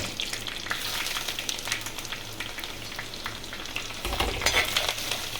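Dried red chillies, curry leaves, ginger and garlic fry in hot oil with a steady close sizzle and crackle, stirred throughout, growing louder near the end with no voices.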